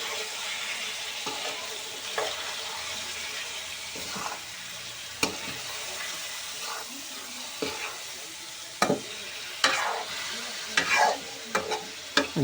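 Blended onion paste is stirred in a hot pan while making cashew paneer kadai. A low sizzle runs underneath while a spoon scrapes and knocks against the pan in irregular strokes that grow busier toward the end.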